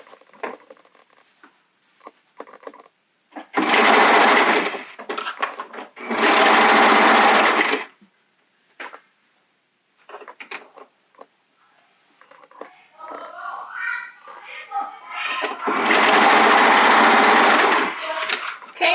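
Serger sewing picot elastic onto a bodysuit, several loud bursts of rapid machine stitching separated by quiet pauses and small handling noises, close up.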